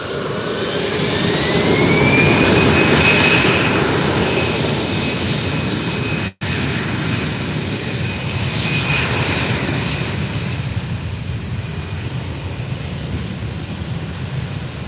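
A Eurowings jet airliner at Málaga Costa del Sol Airport roars loudly and continuously, with a rising high-pitched engine whine over a dense broadband rumble.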